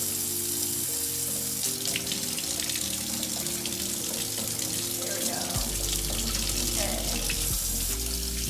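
A tap runs steadily into a sink, a continuous close rush of water that shifts in tone partway through.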